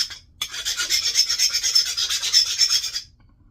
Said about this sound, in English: Sharpen the tip of this flaker up real good.